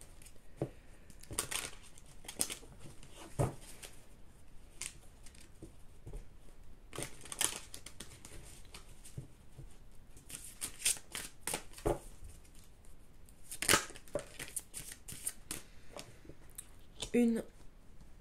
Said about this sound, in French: Mais n'abandonnez surtout pas. Je brasse encore.